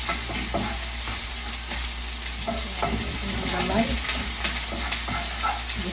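Sliced onions sizzle steadily in a hot pan while being stirred, with soft scraping strokes over the continuous frying hiss as breakfast gyudon is prepared.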